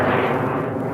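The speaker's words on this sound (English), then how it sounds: "they're launching a bunch of rockets" Amateur rockets launching at an event in the Black Rock Desert give a dense, continuous roaring rumble, loud and broadband, holding steady for the full second with no speech.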